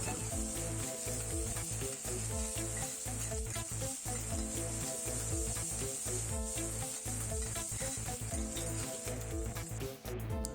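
Shallots, garlic and green chillies fry in a pan for a tender jackfruit stir fry, giving a steady, close sizzle that carries on without a break, with no talk over it.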